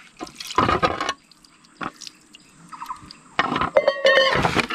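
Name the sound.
sandpaper being dipped in water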